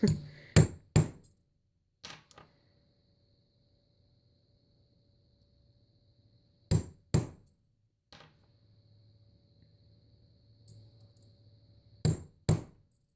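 A hammer strikes a metal letter stamp on a metal blank in pairs of sharp, ringing blows, three pairs spaced apart, each followed by lighter taps and a brief lingering ring.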